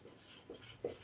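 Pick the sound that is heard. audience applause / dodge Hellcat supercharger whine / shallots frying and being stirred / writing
writing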